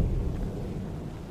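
Thunder sound effect played as a name is spoken in a game, a deep rumbling roll that stays low and steady for a moment, moderately loud with no talking over it.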